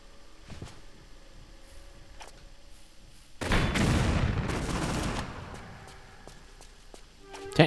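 Rocket explosions in Tomb Raider 3, a loud broad blast that swells and then decays over a few seconds, followed by a sharp burst at the very end after quieter scattered clicks.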